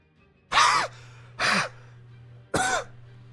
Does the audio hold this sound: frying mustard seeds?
no